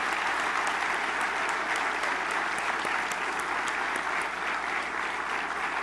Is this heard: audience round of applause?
yes